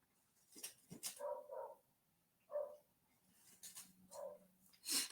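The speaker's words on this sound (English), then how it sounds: "I apologize for the dogs barking" Several dogs barking outdoors in short separated bursts, moderately distant, with yips and a whimper between barks and no talk.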